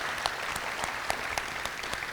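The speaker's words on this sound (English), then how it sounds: "Yeah, that deserves a round of applause." Audience at a scholarship reception applauds, a dense, steady wash of clapping with a few sharper claps standing out, moderately loud throughout.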